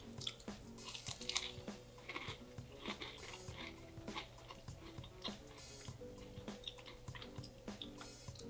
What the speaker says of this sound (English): Did you hear the crisp crunch?